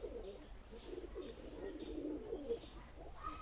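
Pigeons kept for flying cooing softly, low repeated throaty coos in a quiet, faint setting with distant background noise and no speech.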